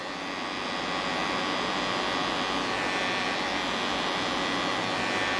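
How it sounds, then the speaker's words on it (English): Hair trimmers buzz continuously during a high taper haircut, a steady close electric hum with no pauses or talk. "It's setting it in with the trimmers and it'll be bald."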